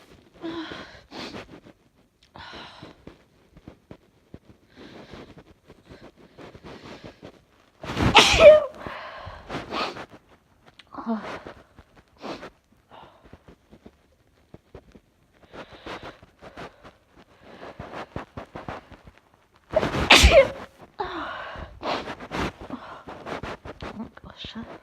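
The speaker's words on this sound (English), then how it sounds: "sneeze." Loud sneezes burst out twice, close up and sharp, with sniffs and breathy snorts scattered between them and quiet vocal noises around.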